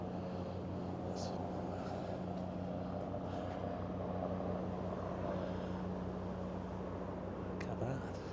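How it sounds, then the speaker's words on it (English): A helicopter flies overhead above deserted Blackpool, heard as a steady low rotor drone with a rhythmic beating pulse that holds at a constant level throughout. "Where's that helicopter going?"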